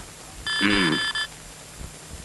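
A telephone bell rings in one short, clear burst of under a second, close and alone in an otherwise quiet room.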